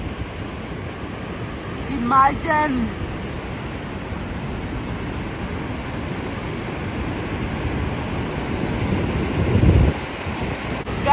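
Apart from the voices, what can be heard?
rushing water at Epupa waterfalls, Namibia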